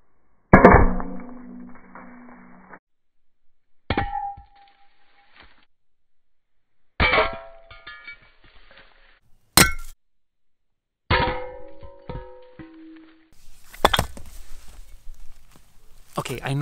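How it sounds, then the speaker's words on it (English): An axe smashes plaster slipcasting molds in a series of loud, separate impacts with clanging, shattering crashes and falling debris, spaced a second or more apart. "I normally don't go after molds with an axe like that."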